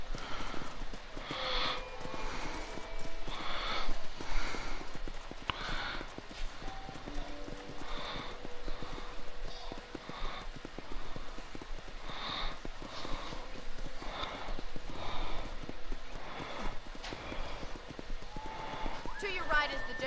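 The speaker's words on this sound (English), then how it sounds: "let's see if you can still ride a horse" Horse hooves clip-clop steadily at a riding pace in the Red Dead Redemption video game, with a horse's occasional snort and a voice talking over the rhythmic clatter throughout.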